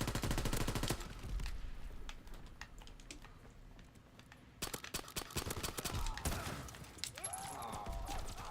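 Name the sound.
shotgun fire in a video game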